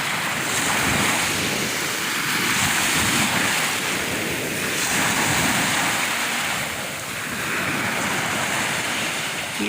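Surf washing onto the white-sand shore of Bakubac Beach, a loud continuous roar of waves rising and falling in slow swells, mixed with wind buffeting the microphone and no voices.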